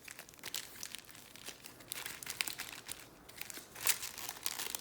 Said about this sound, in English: Let's get our packs out of here.